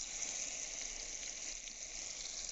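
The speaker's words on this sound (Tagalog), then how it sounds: "Wow, ang ganda ng pagkaprito." A steady, close sizzle of eggplant frying in hot oil in a pan, constant and bubbling with no pauses.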